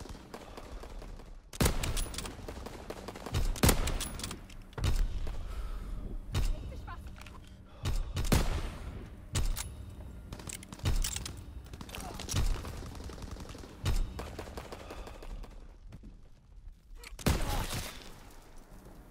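Primary battery gunfire in the World War II shooter Call of Duty WWII, heard as a series of heavy, booming blasts at irregular intervals with rumbling decay between them, loud and near.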